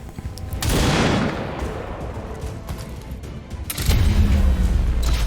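Gunfire in the video game XCOM 2: a loud burst of shots with a booming crack, a rumbling tail, then a second heavy blast near the end, with no talking over it.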